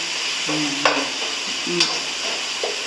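Tomatoes sautéing in oil in a pan for a home biryani, a steady sizzle-hiss with a few scraping stirs and utensil taps, close and moderately loud, no talking.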